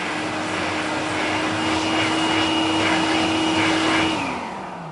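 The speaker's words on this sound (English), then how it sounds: "Now if we put the hand dryer on" A Gorillo Blade hand dryer runs with a loud, steady broadband roar and a constant whine that holds for about four seconds before the pitch drops and the blast begins to fade.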